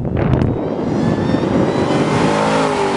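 A 2013 Ford Shelby GT500 pulls hard out of a corner on a figure-8 test course, its engine revving loudly and rising in pitch with a continuous close roar, no voices over it.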